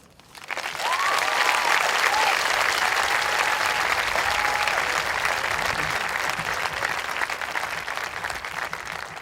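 A big audience at a High Tech High Chula Vista ceremony breaks into loud applause for the student speakers, dense clapping that rises quickly from near quiet and stays full and steady, with a few cheers and whoops on top.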